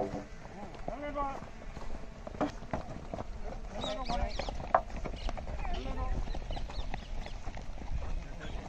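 Horse hooves clip-clopping during jumping training at Dundlod near Jaipur, a steady run of hoofbeats under continuous voices calling instructions, with a sharp thud partway through.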